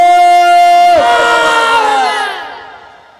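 A large crowd at a religious sermon shouts the takbir chant in unison, a loud sustained collective cry that rises then fades away over about three seconds.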